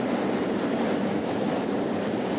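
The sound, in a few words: train passing by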